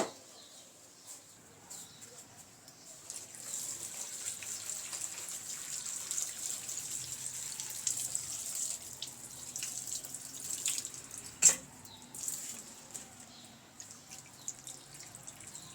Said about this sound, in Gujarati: તો આ ગુંદાને આપણે સરસ રીતે ધોઈ લેવાના છે.